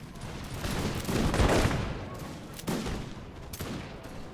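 A massed musket volley rolls out in a video game battle set in the American Revolution. Ragged fusillades come in several uneven bursts, loud and close, with no speech.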